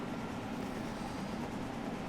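A train in Train Sim World 2 races along at speed, giving a dense, even rushing roar with a steady low hum underneath, continuous and unbroken over the short stretch.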